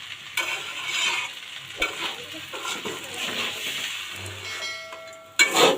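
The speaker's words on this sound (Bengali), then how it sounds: "এখন ভালো করে চাল আর ডাল একসাথে ভেজে নিব" Polao rice and lentils for khichuri are fried in a pan, with a spoon repeatedly scraping and stirring through the grains over a soft, continuous sizzle, close up and without talk.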